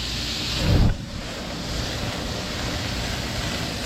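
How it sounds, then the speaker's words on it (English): Grand Marnier flambéed to deglaze a hot pan while making duck à l'orange, a sudden close whoosh of igniting flame followed by a steady, loud, breathy roar of burning and sizzling, with no talk. "now we're going to deglaze this pan with the Grand Marnier. We're going to flame it."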